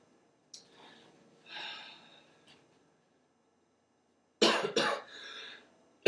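A person coughs during a seated and standing workplace stretching session, a few faint breaths and a muffled cough, then a loud close burst of two or three harsh coughs followed by another abrupt one, separated by silence.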